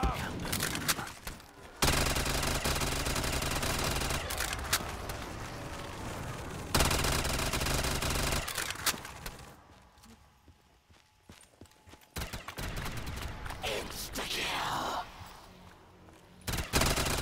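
Rapid AK-74U gunfire in Black Ops 3 Zombies gun game mode, loud dense bursts of automatic shots in long stretches, broken by a quieter lull before firing resumes near the end.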